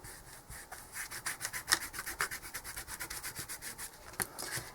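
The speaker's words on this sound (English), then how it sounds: "And using the rub-ons as well brings up the cracks and the texture. Just rub that in well." Rub-on paste being rubbed by hand into a faux leather texture, producing a quiet rhythmic scratchy brushing, with about two strokes per second continuing steadily and close.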